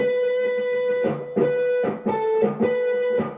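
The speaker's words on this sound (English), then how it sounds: "This is a whole step bend" Distorted electric guitar notes ring out one after another, each a whole-step string bend rising in pitch to settle a step higher, sustained with buzzy overtones.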